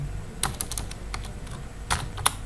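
Java code being typed on a computer keyboard, with scattered close key clicks and a few sharper taps across a couple of seconds over a low background hum, no voice.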